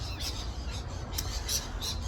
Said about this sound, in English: Got these little rainbow lorikeets above me everywhere here.